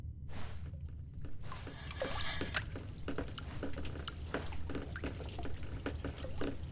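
Water drips from the ceiling in an eerie Nintendo Switch game: a steady scatter of small, irregular drip clicks over a low, droning ambient hum, with no one talking.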